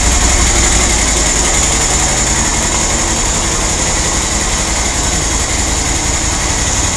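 Steady close idle from a QBK Q Link Tour 250 scooter engine, an even low hum that holds unchanged throughout with nobody talking.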